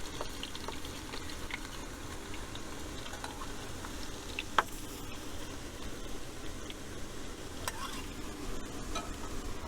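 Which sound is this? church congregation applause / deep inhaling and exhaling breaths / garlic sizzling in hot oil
garlic sizzling in hot oil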